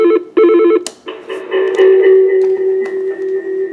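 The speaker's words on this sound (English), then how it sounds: "As you can see, my phone's ringing." A desk SIP phone on a home PBX rings with a repeating electronic tone in short bursts, then a steady tone with soft clicks and background noise follows.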